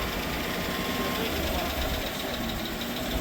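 A GMC Sierra 1500 pickup engine, freshly replaced after a blown motor, idles steadily up close, a dense continuous running sound with faint lifter ticking mixed into it.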